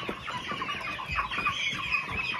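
A meat chicken clucks and fusses near the microphone as it tries to get out of an enclosure, with other farm birds audible, no talk.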